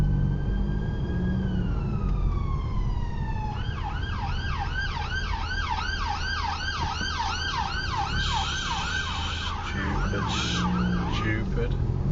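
An ambulance siren sweeps in from a distance, shifting from a long wail into a rapid yelp as it nears, loud and passing by over steady road noise from inside a moving car.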